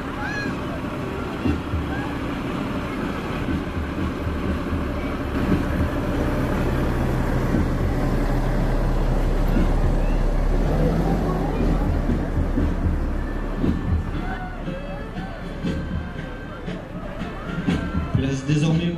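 A 1970s Berlier pontoon fire van rolls past in a firefighters' parade, its engine a steady low rumble that swells as it nears, with a loudspeaker commentator talking over it throughout.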